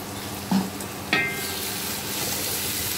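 Tomato paste fries in a pan with turmeric and spices for a Bengali-style chicken curry, a steady close sizzle broken by two sharp clinks of a spoon against the pan.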